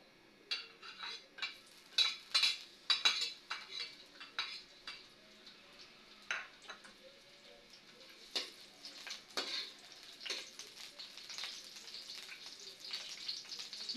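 Onions sautéing in a little cooking oil in a pan for ginisang labong, a soft crackling fry with frequent sharp clinks and scrapes of a utensil against the pan, loudest early on and quieter toward the end.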